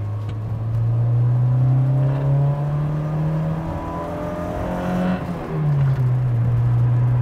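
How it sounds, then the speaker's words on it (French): A 1983 Peugeot 505 GTI engine revving hard while driving, loud and close, its tone climbing steadily through the revs, then dipping briefly at a gear change before pulling up again. "Elle prend ses tours, mine de rien, la petite 505 quand elle veut."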